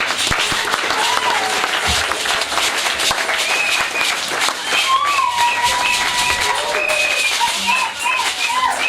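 A congregation at a thanksgiving service breaks into loud applause and acclamations, with shouts and voices, including children, mixed into the dense clapping.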